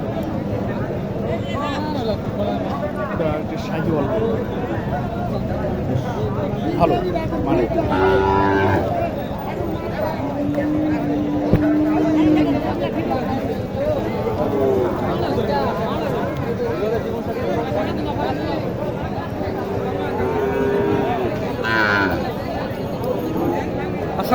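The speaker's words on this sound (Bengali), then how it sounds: "এখানে আরও অনেক গরু আছে" Cattle at a rural livestock market in Naogaon, Bangladesh, moo several times at close to middle distance, with steady crowd chatter and people talking throughout.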